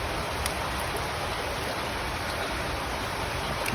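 Steady rain falls during outdoor work, a continuous dense wash of hiss and patter at constant loudness with no voices.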